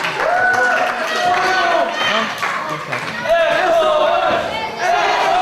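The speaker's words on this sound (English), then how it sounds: "This crowd chanting for S.O.S." A wrestling crowd in a TV arena chants S.O.S. for a wrestler, a loud, sustained roar of many voices rising and falling in waves with a broadcast commentator talking over it.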